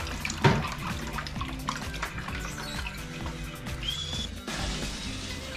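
Salted water brine for drying queen fish being stirred by hand, steady close swishing and sloshing water with faint bird chirps in the background and no talking.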